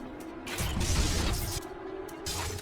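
Mechanical clicks and clunks from reloading a crossbow bolt canister in Bioshock Remastered, several quick metallic snaps spread across a couple of seconds over a low ambient hum, moderately close and without talking.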